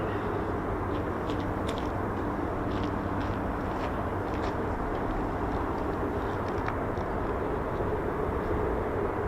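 F-35 fighter jets at RAF Lakenheath, a continuous broad roar of distant jet engines that stays steady throughout, with no voices.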